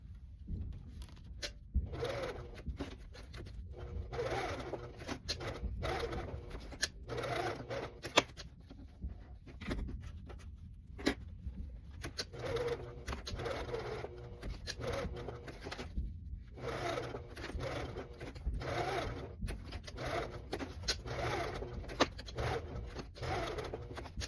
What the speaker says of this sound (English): we are going to sew this again exactly the same as we did with the last one, just in a box with a crisscross for extra durability